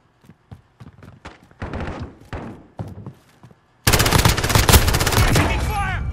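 Heavy automatic gunfire from Call of Duty: Modern Warfare (2019) on the Docks map. Sparse thuds and single shots come first, then a dense, loud burst of sustained rapid fire through the final seconds.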